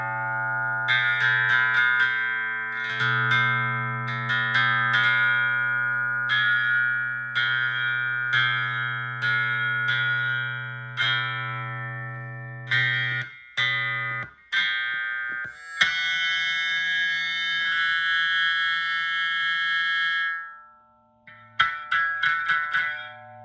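Rings synthesizer module played as a sequence of bright, resonant plucked and sustained tones over a steady low drone, with notes decaying and changing pitch, then shimmering high textures and a few short bursts near the end, no talk.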